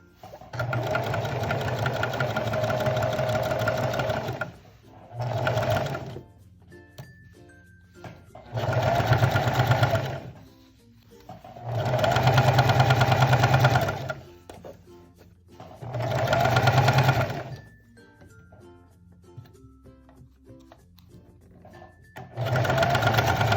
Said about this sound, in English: I'm gonna sew right around the curve of this armhole.